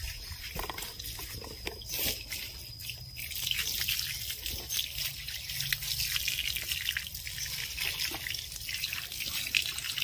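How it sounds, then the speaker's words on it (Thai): Water drips and trickles steadily while a pet is bathed, with a soft continuous splashing patter and faint hiss throughout, no talking. "วันนี้น้องนินนี่อาบน้ำนะคะ"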